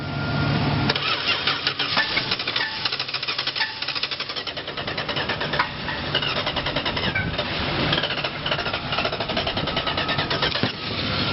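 A 1971 Dodge Coronet engine cranks steadily with a rapid, rhythmic churn, trying to catch on old gas, loud and close for about ten seconds without firing into a steady run.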